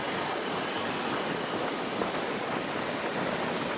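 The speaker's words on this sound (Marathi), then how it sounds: "हा अलाव्याचा इथला समुद्र किनारा आहे." Sea waves wash onto the shore at Alava beach, Ratnagiri, on the Konkan coast. The surf is a steady, fairly faint hiss of breaking water with no distinct individual waves and no voices.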